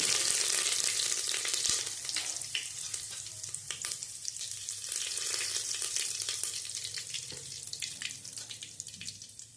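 Cumin seeds, mustard seeds and curry leaves crackle and sizzle in hot oil for tempering, loudest at first and then settling into a steady spitting hiss with small pops, close up and without speech.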